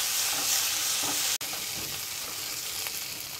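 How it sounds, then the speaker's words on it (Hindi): Onion paste sizzles and fries in a pan for soybean sabzi, with a steady hiss and a few soft scrapes as it is stirred, up close and loud with no talking. "हमने प्याज का पेस्ट भी इसमें अच्छे से भून लिया है।"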